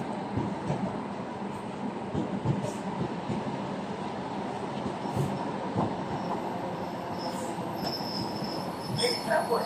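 A modern electric commuter train on Moscow's D4 line rumbles steadily with broadband rail noise and occasional high wheel squeal, close and continuous, with faint background voices.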